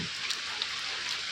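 Heavy monsoon rain falls steadily at a Konkan farmhouse, a dense even hiss with no voices.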